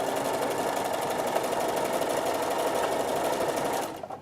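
A sewing machine stitching over a Timtex postcard, a loud, fast, steady mechanical whirr with rapid needle rhythm that runs close up almost to the end before winding down.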